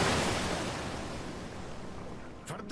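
Rushing river water in the video game Metro Last Light, a loud broadband roar that slowly eases, with a few splashes near the end.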